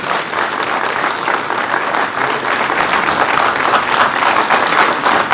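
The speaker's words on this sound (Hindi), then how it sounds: "भरपूर तालियां हो जाए इनके लिए प्लीज" At a felicitation ceremony for NEET achievers at Rightway Career Institute in Rajbagh, Srinagar, an audience claps loudly and continuously for a full-room ovation, the dense patter holding steady throughout with no break.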